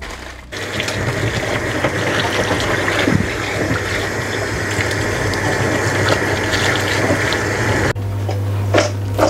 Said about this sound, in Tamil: தண்ணி இல்லாமல் முதல்ல கழுவி எடுக்கிறேன்.